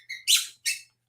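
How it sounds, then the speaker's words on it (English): A dog squeaks a squeaky toy indoors, giving three short, high, close squeaks in quick succession, the last two louder and longer. "Oh, the dog is squeaking."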